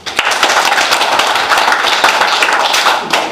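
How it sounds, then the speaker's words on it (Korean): An audience in a training lecture hall claps together, a dense burst of applause that holds steadily for a few seconds with no talk over it. "박수 한번 쳐보세요"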